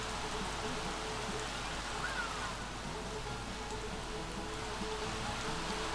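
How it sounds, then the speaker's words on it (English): Steady rain falls in the Sims 3 game, heard indoors as a loud, even wash of raindrops with no pauses and no voices. "I don't know why you can hear the rain so strongly."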